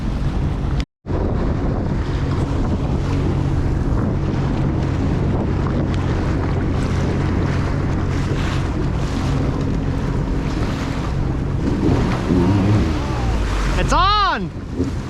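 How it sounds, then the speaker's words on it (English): Jet skis run across Newport Beach harbor with a loud, steady engine drone, spray and heavy wind buffeting the microphone. A brief dropout comes early, and people shout and talk over the noise. "We're on the jet skis"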